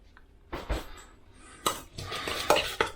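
Tomatoes and garlic stirred in a pan, a spoon scraping and clinking against the metal in several uneven strokes over a light sizzle, close and clear.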